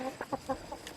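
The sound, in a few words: hen clucking while sitting on eggs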